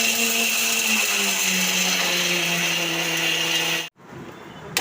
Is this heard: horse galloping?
no